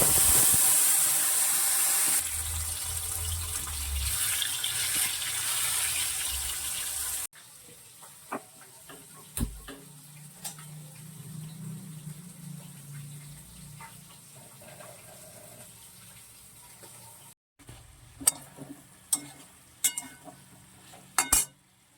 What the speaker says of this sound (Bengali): আর দেখো মাছের তেলটা গরম হয়ে গেছে, এবারে মাছগুলো ছাড়বো।